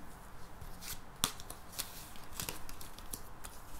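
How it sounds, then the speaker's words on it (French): Nine tarot cards are laid out one by one on a table, giving a few soft, crisp card slaps and brushing sounds with one sharper snap early on, close by and fairly quiet. "Alors, on va poser les 9 cartes. Hop, on va faire le petit tableau."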